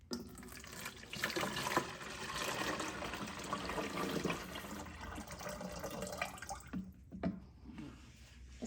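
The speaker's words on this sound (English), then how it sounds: "And then pour." Water poured into a hydroponics container holding basil, a steady splashing, trickling stream lasting several seconds before tapering off into a few faint drips.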